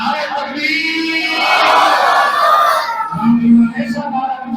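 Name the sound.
crowd shouting the response to the slogan Nara-e-Takbeer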